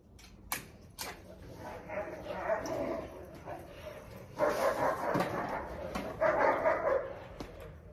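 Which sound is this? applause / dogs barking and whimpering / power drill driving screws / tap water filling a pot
dogs barking and whimpering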